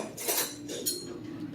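A knife scrapes and clinks against a baking pan while cutting through lasagna, two sharp metallic strokes close up with quieter scraping between them.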